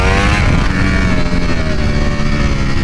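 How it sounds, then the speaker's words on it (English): A 2021 Ducati V4R superbike engine at low throttle tip-in, loud and close, with a steady rumbling drone and slight rises in pitch across under three seconds, no talk. "Low throttle input tip in, pretty good."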